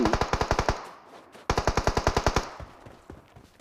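Rapid bursts of sniper rifle gunfire from an AW rifle in a video game, two quick volleys of about ten sharp shots each separated by a brief pause, loud and close with no talking.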